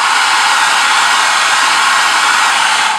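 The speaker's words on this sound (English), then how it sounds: "you can do the option of switching the heat off your hair dryer and just use air" Drying glue on foam armor seams, a hair dryer blows with a loud, constant close-up roar of rushing air and no talk over it.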